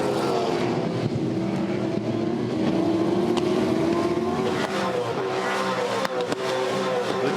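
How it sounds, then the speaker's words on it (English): V8 Supercars race at the Auckland 500 in 2015, their engines roaring continuously and loudly as several cars pass with rising and falling pitch and dense layered exhaust noise, and no voices audible. "Look at Pye defending here from the Freightliner Commodore."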